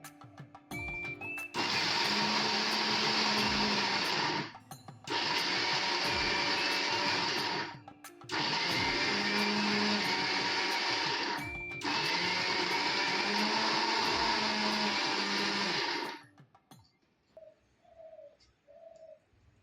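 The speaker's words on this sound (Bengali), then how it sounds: "গ্রাইন্ড করার সময় একটা কথা মনে রাখতে হবে, যে গ্রাইন্ডটা একবারে অনেকক্ষণ না করে ধীরে ধীরে করতে হবে।" A mixer grinder pulverises dry fruits for nadu in four loud bursts of a few seconds each, separated by short pauses, then stops, leaving faint background sounds.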